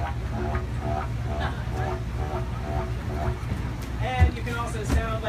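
A low, buzzing didgeridoo drone pulses in quick rhythmic bursts, imitating a kangaroo hopping across the Australian outback, with a couple of sharper accents near the end.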